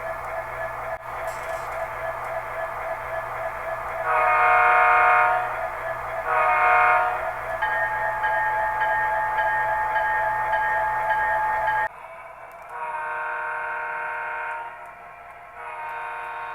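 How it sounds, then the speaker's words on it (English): An MTH model train engine runs steadily with a buzzing motor hum and electronic sound effects, including two loud horn blasts, then a quieter stretch with softer tones. "you will hear the train running with its sounds"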